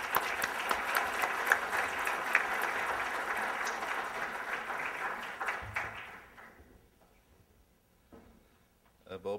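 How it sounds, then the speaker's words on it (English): Conference attendees at an economic and financial event applaud a speaker in a moderately distant, steady round of clapping that dies away after about six seconds, leaving quiet room noise and a voice at the end. "Let's give him a round of applause"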